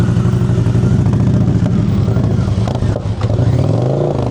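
A motorcycle engine runs loud and close under steady throttle during slow-speed practice riding, a continuous harmonic drone with small pitch shifts and a dip near the end before picking up again.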